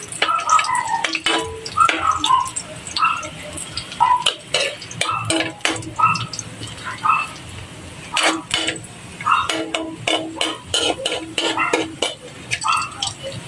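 Onion, garlic and ginger sautéing in a pan, with repeated sharp clinks and scrapes of a utensil stirring against the metal over a soft sizzle, loud and close.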